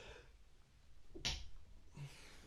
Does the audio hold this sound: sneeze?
yes